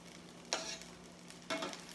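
Onions, mushrooms and garlic sautéing in a pan, a soft steady sizzle with two brief scraping stirs about a second apart, close and quiet.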